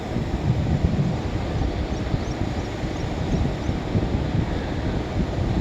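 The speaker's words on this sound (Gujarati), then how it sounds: "પવન થોડોક છે" Gusty wind buffets the microphone in a continuous low rumble with uneven surges, steady throughout and no voices, outdoors at a Ganesh idol immersion.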